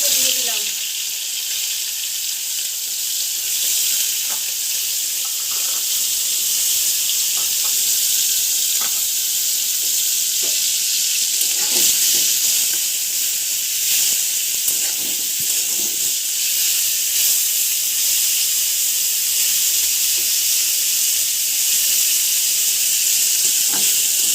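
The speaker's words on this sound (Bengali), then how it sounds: "চিংড়ি মাছটা ভাজা হয়ে গেছে" Prawns fry in hot white oil in a kadai, making a dense, loud, continuous sizzle and hiss that hardly varies, with a few light scrapes and taps of a spatula scattered through.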